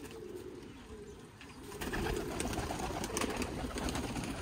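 Flying pigeons kept by a Sialkot pigeon fancier coo softly in low, rounded calls, faint and somewhat distant over steady background noise with no one speaking.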